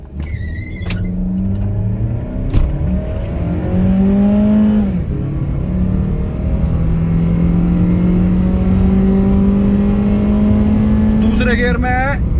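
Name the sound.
Honda Civic accelerating hard through gears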